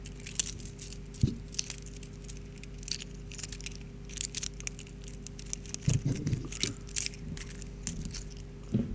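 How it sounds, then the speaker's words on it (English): Wristwatch being handled and shaken in the hand, giving a light metallic jangle like a bunch of keys: scattered clinks and rattles with a few sharper bursts, close up over a steady low hum. "Gotta admit, sounds like keys. And it's a watch."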